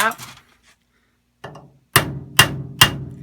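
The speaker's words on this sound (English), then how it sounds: "So I'm going to take my extractor, which is here. I'm going to stick it in that hole. I'm going to give it a little tap." A hammer taps a bolt extractor into a hole drilled in a stripped bolt on a hydrofoil: a soft first tap, then three sharp, loud metallic strikes evenly spaced, close up, with brief speech at the start.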